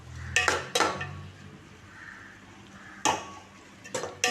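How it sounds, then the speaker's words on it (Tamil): A spoon stirs chicken gravy in a cooking pot, with a few sharp metallic clinks and scrapes against the pot separated by a quieter stretch of soft stirring. "லைட்டாக கிளறி விட்டுக்கலாம்."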